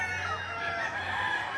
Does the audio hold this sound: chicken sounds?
yes